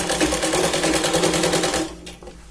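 A sewing machine runs a fast, even burst of stitching along the side seam of a Punjabi dress, loud and close for about two seconds before stopping with a faint click.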